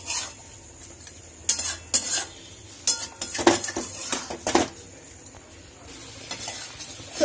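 Red meat sautéed with onion juice in a wok (kadai), sounding as intermittent scraping stirs and clinks of a metal spatula over a low, soft sizzle, heard close with no voices.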